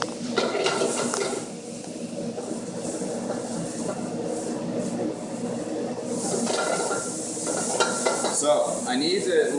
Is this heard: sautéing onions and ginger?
yes